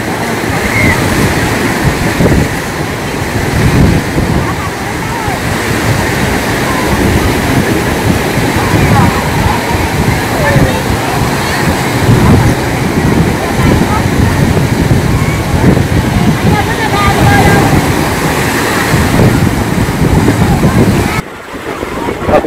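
Surf at Sầm Sơn beach in Thanh Hóa, a steady loud wash of breaking waves with wind buffeting the microphone, continuing without pause and cutting out briefly near the end.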